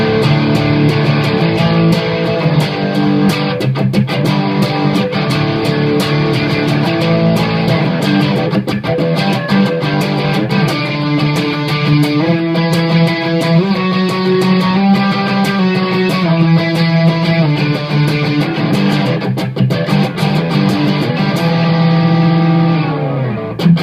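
Electric guitar played through an MXR Badass 78 distortion pedal with the crunch button off, giving a thick, loud, sustained overdriven tone with strummed chords and picked notes, steady throughout with no talking.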